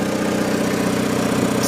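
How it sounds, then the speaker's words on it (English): An Onan diesel generator, a DJB 6.0, runs after a cold start, its exhaust giving a steady, even idling drone heard close by outdoors with no break or change throughout. "I mean, you can hear the exhaust."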